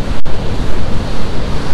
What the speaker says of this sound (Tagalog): Ang lakas ng hampas ng tubig.